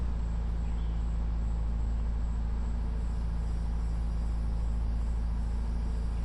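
Low steady engine rumble of a car driving in the video game Endless Suburbia, a constant drone with a faint hum on top and no other sounds.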